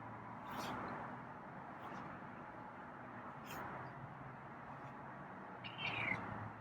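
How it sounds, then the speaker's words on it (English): A soft meow from a feral cat near the end, brief and faint, over a quiet room hum with a couple of small rustles. "Oh, there's a meow."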